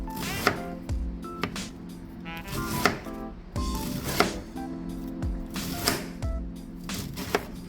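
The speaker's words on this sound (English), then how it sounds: "I'm just going to shred this cabbage." A knife shreds a head of cabbage, a run of crisp repeated chopping strikes with small clicks and creaks between them, close up with no talk.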